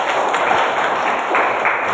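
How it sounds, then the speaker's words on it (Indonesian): A classroom of students gives a short burst of applause, dense and steady for two seconds. "Tepuk tangan buat Lendra."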